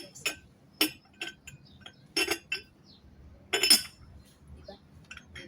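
Plates clink and knock against each other while being packed in a house, a scattered series of sharp ceramic taps and chimes, some clustered, close by over a faint low background.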